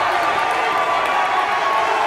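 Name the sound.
wrestling crowd in Rossford reacting to referee's decision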